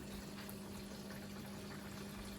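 Faint, steady watery hiss and gurgle of an aquarium siphon vacuuming a sand bed during a weekly water change, continuous and even throughout.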